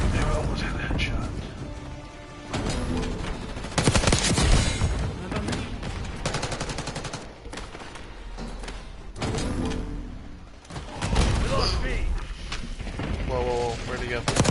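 Jackal PDW submachine gun fire in Black Ops 6, rapid bursts of shots with impacts and explosions, loud and repeated in clusters under game noise and talking.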